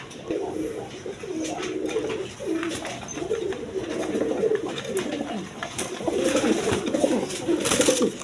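Pigeons at a pigeon market coo continuously in low, rolling bursts, several birds close by layered over a busy background murmur with faint distant chatter.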